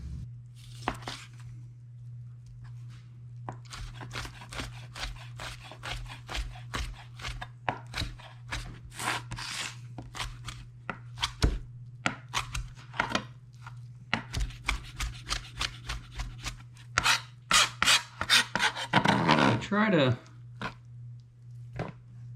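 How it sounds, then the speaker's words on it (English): Knife chopping and dicing cooked lobster meat on a cutting board, a steady run of sharp close taps that quickens into dense bursts near the end, over a constant low hum. "So I've got my lobster diced."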